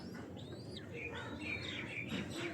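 Pigeons chirp and call faintly in the distance, with several short high tweets and soft low tones spread across a quiet background.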